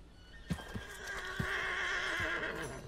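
A horse whinnies in a long, rising neigh in Red Dead Redemption 2, over a steady background drone, with a few sharp hoof-like clops near the start.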